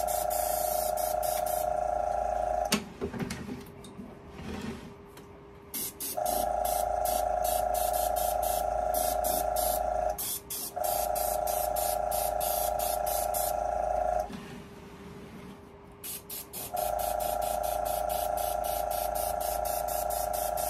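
An airbrush sprays a light dusting coat of paint onto a scale model WWII German tank, giving steady close hissing bursts with a constant tonal whine, broken by several short pauses.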